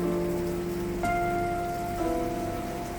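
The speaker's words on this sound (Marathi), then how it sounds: "खूप वेळ झाला तरी पाऊस काय थांबायचं नाव काढत नव्हता" Steady rain patters softly in a continuous hiss, with gentle sustained musical tones playing over it.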